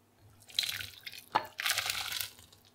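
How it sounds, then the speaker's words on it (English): Cooked Shin Ramyun instant noodles slide from the pot into a bowl in two wet, sloshing bursts of liquid and broth, close and fairly quiet, with a soft drip between them. "let's transfer them into a bowl"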